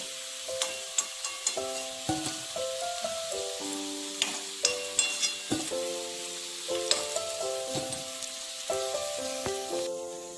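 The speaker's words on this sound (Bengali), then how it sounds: "আলুগুলো লাল করে ভেজে নিয়েছি" Potatoes frying in oil in a pan over medium-low heat: a steady, dense sizzle throughout, with repeated tonal clinks, likely from stirring against the pan, close and prominent with no talk.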